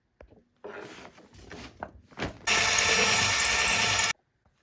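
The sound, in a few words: drill enlarging hole in dresser wood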